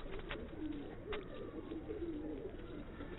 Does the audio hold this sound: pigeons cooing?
yes